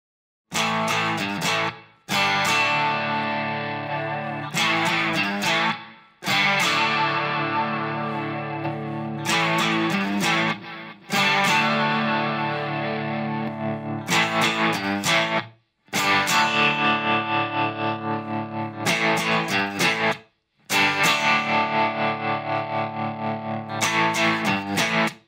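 An electric guitar runs through the overdrive setting of a NOVA GO SONIC portable guitar, playing loud distorted chords and riffs in sustained bursts with short gaps between phrases, alone without talk.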